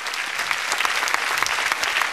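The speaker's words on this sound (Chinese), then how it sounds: "给他掌声鼓励鼓励" Studio audience applauding a contestant on a Taiwanese singing competition show, steady dense clapping throughout, loud and close with no talk.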